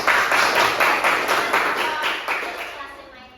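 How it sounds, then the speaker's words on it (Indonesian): Classroom students clap their hands together in a steady, rhythmic run of close claps that slowly fade toward the end. "Tepuk tangan untuk kita."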